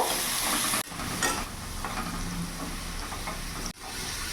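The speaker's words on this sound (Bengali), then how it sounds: "আলুগুলো একটু লাল লাল করে ভেজে নেব।" Diced potatoes fry in hot oil with turmeric for a soya egg curry, a loud, dense, close sizzle that runs almost unbroken, briefly cut twice by short drops, with faint stirring scrapes and no voices.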